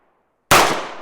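A single loud, sharp Walther PDP F Series handgun shot at a 25-yard outdoor range, a sudden bang out of near silence with a decaying tail that fades over half a second.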